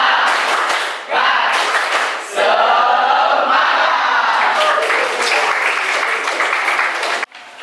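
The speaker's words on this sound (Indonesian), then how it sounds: "Kita lakukan tepuk semangat." A classroom group performs a rhythmic tepuk semangat cheer, clapping in patterned bursts with chanted voices between, close and loud, with brief pauses in the sequence.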